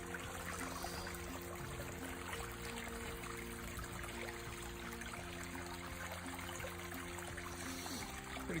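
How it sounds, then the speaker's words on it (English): Water trickles steadily down a natural drainage channel on hilly wooded land, a soft continuous dribble at low level, with faint tones running under it throughout. "Just natural drainage from the hilly land, where the water finds its way down to the low point."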